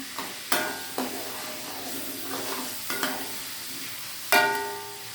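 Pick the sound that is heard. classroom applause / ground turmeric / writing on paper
ground turmeric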